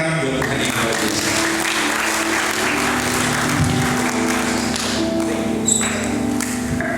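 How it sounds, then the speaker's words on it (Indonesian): Applause from a church seminar audience, a sustained broad clatter of many hands lasting several seconds, with occasional thumps and some voices mixed in. "Kita berikan tepuk tangan buat Tuhan yang luar biasa."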